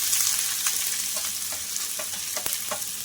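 Sliced onions frying in hot ghee for chicken biryani, a steady close sizzle with light scrapes and stirring taps throughout, no voices.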